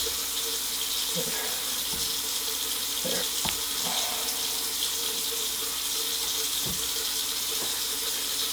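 Water is poured steadily over a bag sitting in a plastic tote, making a continuous hissing, splashing flow like a running tap. It holds level throughout, with a few soft knocks and no talking.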